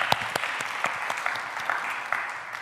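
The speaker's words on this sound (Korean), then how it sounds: "우리 박수로 환영하겠습니다." Church congregation clapping during a Sunday service to welcome a new member who has registered with the church; a steady round of applause from a modest-sized crowd, fairly even and sustained throughout.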